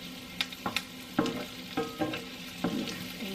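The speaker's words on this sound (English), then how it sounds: "stir them so they don't get burnt" Onions frying in a pan before garlic is added give a soft steady sizzle, broken by a handful of sharp scraping clicks as a utensil stirs them.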